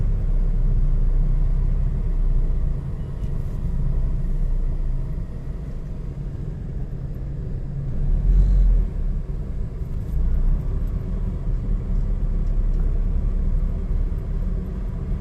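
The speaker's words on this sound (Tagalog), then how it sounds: "So ngayon, Linggo, kaya dito siya ka-traffic." Sunday street traffic in Manila, a steady low rumble of passing cars and engines with no talk, swelling briefly around the middle and otherwise constant.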